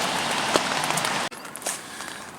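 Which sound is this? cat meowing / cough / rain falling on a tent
rain falling on a tent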